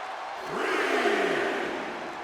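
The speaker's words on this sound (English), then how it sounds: "And the crowd are eating all of this up." A video game wrestling crowd in WWE 2K25 Universe Mode roars and cheers, swelling loudly to a sustained peak before easing back down, with no talking over it.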